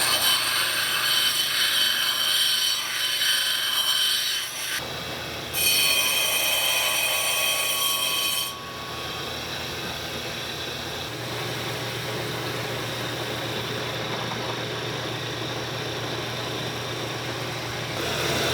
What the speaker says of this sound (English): And that's what the grinder is for.